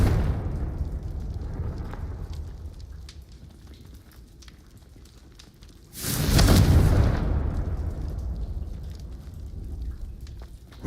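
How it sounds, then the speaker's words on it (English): A Confringo spell explosion in the video game Hogwarts Legacy: a sudden loud, fiery burst in the middle of the clip, followed by a roaring, crackling tail that fades slowly over a quiet game background. "Confringo."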